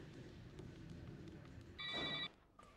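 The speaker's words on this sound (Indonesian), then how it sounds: "biar saya telepon Ronald" During an outgoing phone call in an Indonesian TV drama, one short electronic ring sounds clearly over low room noise, then falls silent.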